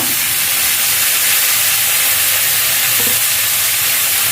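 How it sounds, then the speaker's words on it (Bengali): Vegetables fry with ginger-chili paste in a pan, a loud, dense and unbroken sizzle heard up close, with faint stirring taps and no talking. "সবজিগুলোকে ভালোভাবে ভেজে নিতে হবে"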